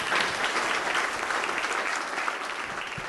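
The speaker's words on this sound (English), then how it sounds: "And I think we should give a big round of applause to our candidates." An audience at a town council candidates' debate breaks into applause, a dense, even clatter of many hands that fills the hall and tapers slightly toward the end.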